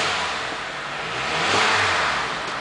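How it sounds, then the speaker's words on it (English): A 2009 Honda Element EX engine revs up and settles back, a steady broadband roar with one swell in the middle, recorded close with no talking. "I'm going to go ahead and rev it"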